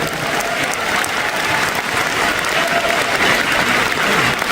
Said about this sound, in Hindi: इसके लिए ताली भी बजा सकते हैं।